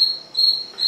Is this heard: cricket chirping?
yes